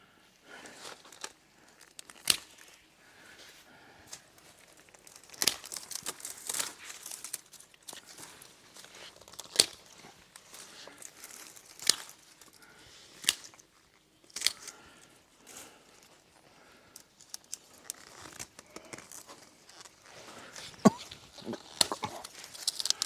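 Pruning a Coral Dawn climbing rose in a garden with hand shears, giving scattered sharp snips and rustling, crinkling stems and leaves at close range, spread irregularly across the clip, with no talking.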